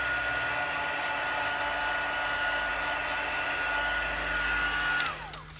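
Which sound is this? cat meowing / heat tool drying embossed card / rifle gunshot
heat tool drying embossed card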